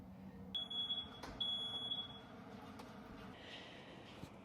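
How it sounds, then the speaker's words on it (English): A smoke alarm, set off by smoke from a wok stir fry of chicken, gives faint, high, repeated beeps in a couple of short bursts over soft kitchen background noise. "Definitely gonna set the smoke alarm off."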